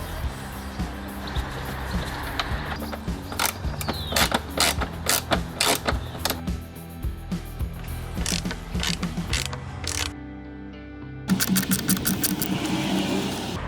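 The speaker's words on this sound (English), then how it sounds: "So just undo those 6 screws, and they remain captive once you've undone them" Screws being undone on the engine air filter cover of a Mercedes W205 with the OM651 engine: rapid repeated ratcheting clicks in short bursts, close and fairly quiet, with brief pauses between runs.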